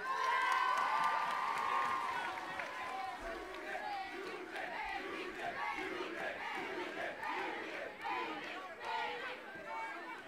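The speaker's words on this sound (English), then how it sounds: "A big round of applause." A packed room at a girls' and boys' summer camp event erupts in loud, sustained crowd noise: cheering, shouting and applause rolling on continuously with no pause.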